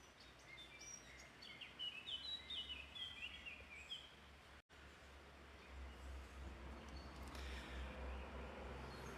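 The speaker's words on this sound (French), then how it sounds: "je vais vous laisser écouter les oiseaux" Birds sing and chirp in a garden, with bright warbling phrases in the first few seconds over a steady low outdoor rumble, then fainter calls continuing in the background.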